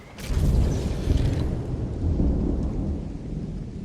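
Heavy rain and thunder rumble through a rainy biome in the LEGO Fortnite video game, a loud, steady downpour with low rolling thunder that swells and holds throughout.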